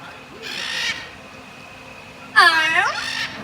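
A parrot at a live parrot show speaks a short phrase in two bursts: a brief muffled attempt, then a louder, clearer squawky repeat after a pause.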